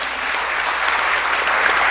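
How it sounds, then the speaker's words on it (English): A crowd claps steadily and densely, an even wash of applause throughout with no talking. "Y'all need to give your mayor a round of applause."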